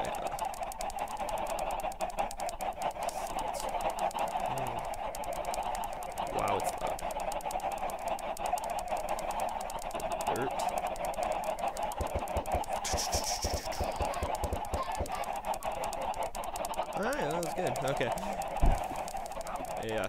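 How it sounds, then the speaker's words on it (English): A loud flock of chickens clucks nonstop on a video game chicken farm, a dense, steady squawking mass with no pauses across the whole stretch. "Just throwing the chickens. You can hear them. They're loud."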